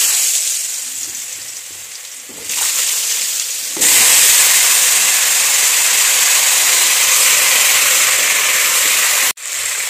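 Jackfruit and potato dropped into hot oil in a wok, a loud close sizzle that jumps up in two stages as pieces go in, then a steady roaring fry that cuts off briefly near the end.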